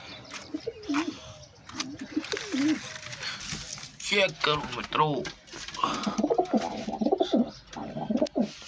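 Pigeons coo again and again at close range, with throaty rolling calls and a few chirps, while someone talks over them.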